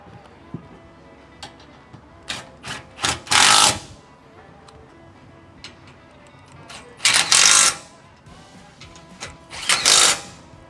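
A Milwaukee power tool drives 9/16 bolts around the frame of a Ranch Armor headache rack on a Can-Am Defender, with three loud, rattling bursts of a second or so each, quieter clicks and handling noise between them.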